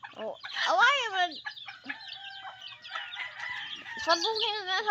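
Several roosters fighting, crowing loudly and close, their calls overlapping, with clucking between the crows.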